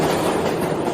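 A train rumbles past in a brief, loud, steady roar with a faint rhythmic clatter.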